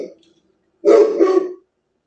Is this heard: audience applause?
no